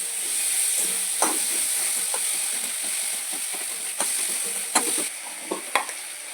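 A spice paste with green chilies stirred in a hot pan for a fish-bone curry, a steady loud sizzle with occasional scraping clicks of the spoon against the pan.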